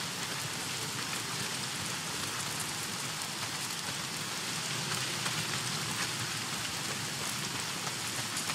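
Heavy rain pours steadily in the video game Days Gone, a dense, continuous hiss of drops hitting surfaces, loud and unbroken with no voices.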